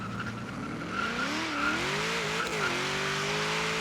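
A 1978 Ford Mustang II King Cobra launches from a standstill in Forza Horizon 3. The engine roars and climbs in pitch under a loud, continuous tire squeal, close and without talk.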